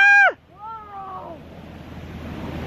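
Surf breaks at a California beach as a steady, rising wash of noise, following a short exclaimed vocal sound from a person at the very start.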